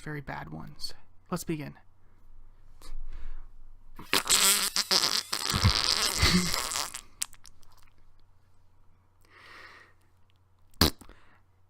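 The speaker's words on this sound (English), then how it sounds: "And that was the sound a whoopee cushion makes." A long, raspy, flapping deflation like a whoopee cushion bursts out at mid-length, loud and close, probably voiced by mouth. Scattered clicks and brief speech come before it, and a sharp pop follows.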